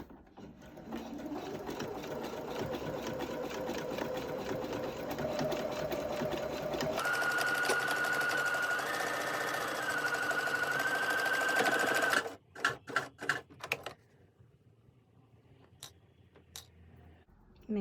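A sewing machine stitches a fabric mask strap with a loud, continuous whirring run whose pitch shifts as it speeds up, then stops, followed by a few sharp clicks and quiet handling.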